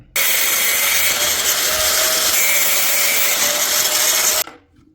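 A power tool with a steady, broadband cutting whine saws through a homemade clamp for a knife-sharpener build, running loud and continuous for about four seconds before stopping abruptly.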